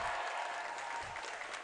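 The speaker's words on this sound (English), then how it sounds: "They're clapping." Spectators at a girls high school basketball sectional final clap in a sustained, dense roar of applause, heard at a distance and fairly soft overall, with crowd noise blended in.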